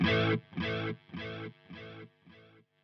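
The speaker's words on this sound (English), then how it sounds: "or a delay with modulation effect." A delay pedal with modulation gives a guitar note that repeats five times, each echo slightly softer and wavering, evenly spaced roughly every half second and fading out near the end, with no talking.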